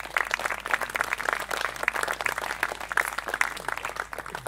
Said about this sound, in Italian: quindi fatevi un bel applauso.